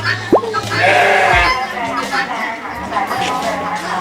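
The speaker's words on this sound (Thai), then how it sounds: "แกะมันร้องยังไง" Sheep bleat at a sheep farm in Nakhon Nayok, a couple of short nearby bleats over a steady crowd chatter with people talking close by.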